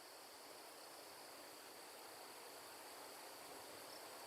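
Crickets chirp in a nighttime setting in American Truck Simulator, a faint, steady, continuous high trill over a soft noisy background hiss, no voices.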